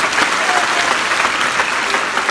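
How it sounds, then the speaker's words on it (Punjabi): An audience applauds for a boy at a gathering in Ludhiana, Punjab, a loud, dense, steady wash of clapping from many hands filling the whole moment without a break. "ਆ ਮੁੰਡੇ ਲਈ ਜ਼ੋਰ ਕੇ ਤਾੜੀਆਂ"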